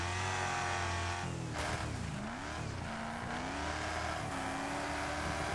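Race car engine in the Wreckfest racing game revving loudly and continuously, pitch dipping and climbing as it accelerates through corners, a steady close engine drone with no talk.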